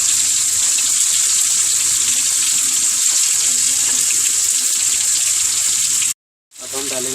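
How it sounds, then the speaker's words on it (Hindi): Garlic, ginger and coarsely crushed green chillies sizzle in hot oil in a pan for a chicken biryani, giving a loud, steady frying hiss that cuts off briefly near the end and then resumes. "लाइट ब्राउन होने के बाद इसके अंदर हम डालेंगे लहसुन, थोड़ा सा अदरक और ये हरी मिर्च बड़ी कुटी हुई।"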